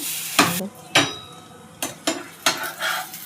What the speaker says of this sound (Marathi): तव्यामध्ये तेल टाकून फ्राय प्लेटमध्ये आपण ते व्यवस्थित भाजून घेऊया